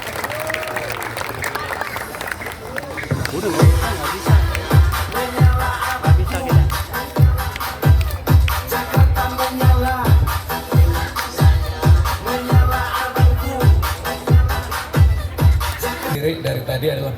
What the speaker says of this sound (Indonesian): Kita sambut dengan tepuk tangan meriah pada Bapak Pramono Anung Wibowo.